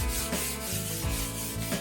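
Primer on a water-damaged wooden dresser is sanded by hand in quick back-and-forth strokes, a close, rhythmic scratchy rubbing with about four passes.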